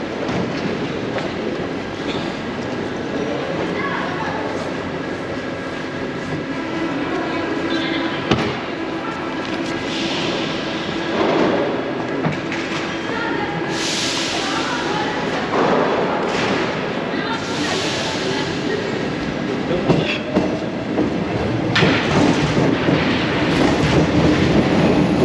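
A Paris metro train rumbles through a large underground station cavern, with clattering wheels, thuds and bursts of high squealing and hissing that echo off the walls, and a voice speaks now and then over the noise.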